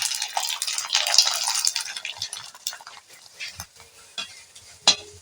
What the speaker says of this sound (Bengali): এবারে তেলটি গরম হয়ে গেছে আমি একটা ছোট পাঁপড় দিয়ে দেবো প্রথমে